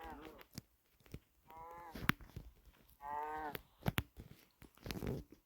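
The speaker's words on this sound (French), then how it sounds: "On va tuer cette vache d'abord." A cow moos in the Minecraft video game, several drawn-out, fairly quiet moos separated by sharp clicks and hit sounds, with no talk over them.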